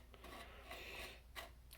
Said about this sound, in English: first what I want to do is try sanding this back down